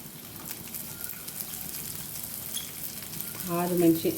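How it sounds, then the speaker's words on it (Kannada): Urad dal and spices fry in a pan for a Brahmin-style bitter gourd sambar, giving a steady close sizzle with a brief tonal sound near the end. "ಉದ್ದಿನ ಕಾಳು ಫ್ರೈ ಮಾಡ್ಕೋತೀನಿ ಫಸ್ಟು"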